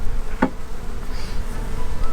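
Italian honey bees from Georgia buzz around a hive close by, a steady insect drone with one sharp bee passing very near.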